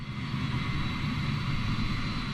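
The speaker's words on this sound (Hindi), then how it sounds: "और पायलट्स इसके इंजन फायर कर देते हैं।" Jet engines of an airliner on the runway roar in a steady, dense drone with a faint high whine, constant and fairly close, with no voices.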